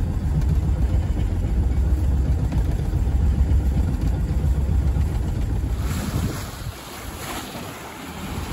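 A sailboat under sail with no motor on the Baltic in a moderate breeze, strong wind buffeting the microphone over rushing water and waves along the hull, easing a little toward the end.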